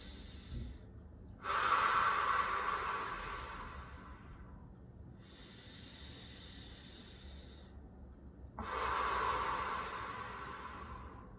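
Slow, deep breaths drawn in and let out while a yoga pose is held, two loud hissing inhales or exhales with quieter breathing between them, close and alone with no talk.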